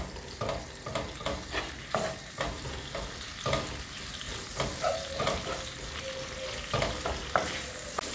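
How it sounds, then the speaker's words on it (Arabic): Food frying in a pan with a sprinkle of garlic powder, a steady close sizzle broken by regular scraping stirs of a utensil, with no talking. "شويه ديال الثومه بودره شويه صافي وغنخليه يتقلى."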